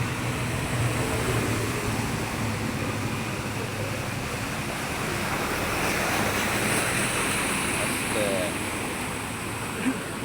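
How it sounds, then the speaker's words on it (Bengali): Floodwater ripples lapping across a flooded road near the Panchchor bus stand roundabout after sudden rain, a continuous broad wash of water with wind rush, steady and fairly loud for the whole stretch. "রাস্তার মধ্যে যদি হয় এমন ঢেউ।"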